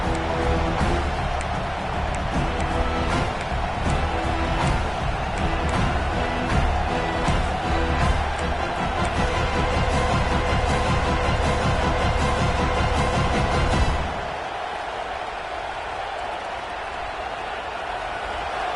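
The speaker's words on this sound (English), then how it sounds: "This crowd trying to make life miserable for this offense." Stadium crowd roar in a Madden football video game, a loud continuous wash of cheering and noise that runs steadily before dropping to a quieter murmur near the end.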